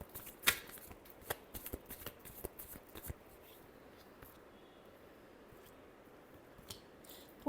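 Tarot cards being shuffled by hand, a brisk run of soft riffling snaps and flutters in the first three seconds, then quieter scattered card sounds over a hushed background.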